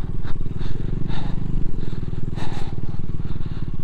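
Motorcycle ridden over desert sand near Sarchu in Ladakh: a loud, steady engine drone close by with rough chugging pulses and clattering bumps throughout, and no voices heard over it.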